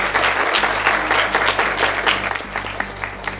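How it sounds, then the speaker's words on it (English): A crowd applauds at a high school letter-of-intent signing for a college soccer player, dense steady clapping filling the room for a few seconds with a low hum underneath and no talk. "Let's give her a round of applause"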